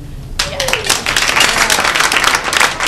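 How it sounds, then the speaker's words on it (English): Comedy club audience at Carolines bursts into applause and cheering after a call for married couples, a dense burst of clapping that starts abruptly and holds steady for a few seconds, with scattered whoops mixed in. "Are there married people here tonight by applause?"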